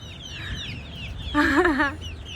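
A chicken gives a short, loud cluck-like call in the middle, over a background of faint chirping birds and low ambient noise.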